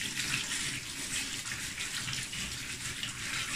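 Fresh artichoke tubers are scrubbed under a running kitchen tap, giving a steady, moderately quiet hiss of flowing water with no pauses and no speech.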